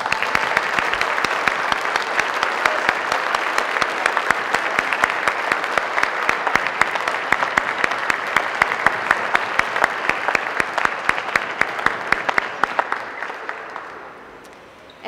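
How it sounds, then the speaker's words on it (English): An audience at a class of 2020 pinning ceremony gives a long, steady round of applause, dense clapping filling the room for about fourteen seconds before tapering off at the end. "give this very, very special member of the class of 2020 another round of applause"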